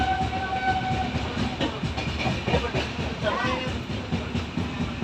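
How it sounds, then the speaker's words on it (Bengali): A train departing and rolling out with a continuous rumble, clickety-clack and a brief whistle-like tone early on, with faint voices in the background. "এই ট্রেন ছেড়ে দিয়েছে আমাদের।"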